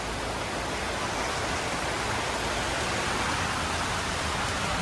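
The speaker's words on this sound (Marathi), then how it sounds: "पाऊस पण खूप जोरात आलाय" Heavy rain pours down in a steady, dense hiss, loud and unbroken throughout, with no voices over it.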